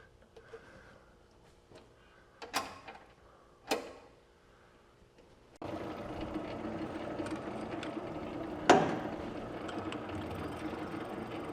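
An annular cutter bores into metal on an underpowered drill, first with a few sharp scraping bites, then a steady loud grinding drone with a brief harsh spike of chatter.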